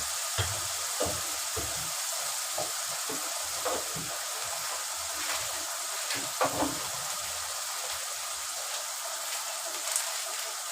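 Onion paste fries in a pan for a katla fish head dish, giving a soft continuous sizzle with faint crackles and occasional light clinks, close and quiet.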